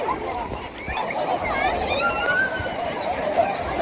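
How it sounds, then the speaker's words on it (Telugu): Water sloshes and splashes over riders on a water park ride at Wonderla in Hyderabad, a steady close wash of water with people talking and excited voices throughout. "నా మీద కూడా వాటర్ పడ్డాయి."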